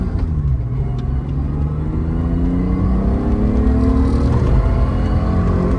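A BMW E23 735i engine pulls on the road, a close, steady drone whose pitch climbs gradually as the car gathers speed, with faint road noise underneath.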